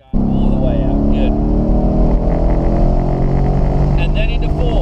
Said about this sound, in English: enjoy some beautiful V8 noises